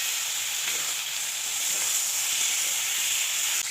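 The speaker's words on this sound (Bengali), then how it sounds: "সবজিটাকে এবার ভালো করে কষিয়ে নেব" Broad bean (flat bean) curry with ground spices frying in a pan, a steady, even sizzle that holds at a constant level throughout with no other sounds.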